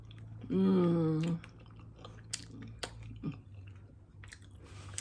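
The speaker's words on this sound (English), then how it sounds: "So I'm gonna pick up a piece here and see what it tastes like." Close chewing and biting on a slice of semi-homemade pizza, soft crunches and mouth sounds after a brief hum-like vocal at the start.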